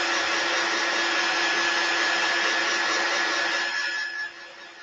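A handheld dryer blows steadily on freshly painted Valentine's Day craft tray pieces, a loud continuous airy whoosh that holds even throughout and dips slightly just before it is switched off near the end.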